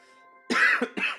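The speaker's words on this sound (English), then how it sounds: "I have a cough as well" Two short, harsh coughs burst out close by after a moment of faint tonal background, the first longer and the second brief.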